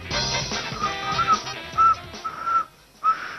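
A person attempts short whistles, several brief high tones with gaps, over a muffled background of murmuring voices and noise.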